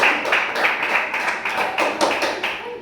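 Junior high students in a classroom applauding a group, a close, lively run of hand claps with uneven rhythm lasting a few seconds.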